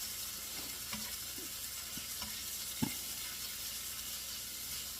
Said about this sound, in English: I like the sound of the sizzle,